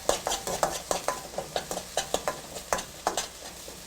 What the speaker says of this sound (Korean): 불을 약하게 해갖고 마늘을 이렇게 부글부글 하죠